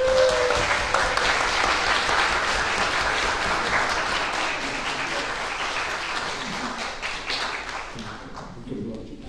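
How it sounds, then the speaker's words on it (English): A church congregation applauds warmly after a baptism at a Sunday service, sustained clapping from many hands filling the room for several seconds before it thins out toward the end. "And so I invite you, friends, by means of applause"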